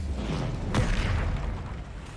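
Fiery spell blast from the Incendio fire spell in the video game Hogwarts Legacy, a sudden burst with a rumbling, roaring tail over low background noise.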